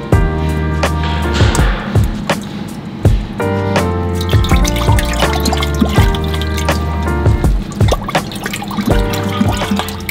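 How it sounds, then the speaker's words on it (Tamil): Pest control chemical being mixed with water at home, heard as close, loud splashing, dripping and trickling with clinks and knocks from the container throughout. "பிரதர் சொன்ன மாதிரி இப்போ இந்த கெமிக்கல் வந்து மிக்ஸ் பண்ண போகிறாங்க"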